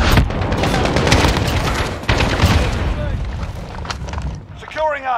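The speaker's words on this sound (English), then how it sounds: "Cruise missile, go for launch." A cruise missile launches in Call of Duty: Modern Warfare with a loud, rumbling boom and a sustained roar over heavy battle noise, trailing off as a radio voice comes in at the end.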